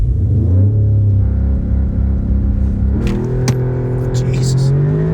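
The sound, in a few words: Audi S3 launch acceleration in the wet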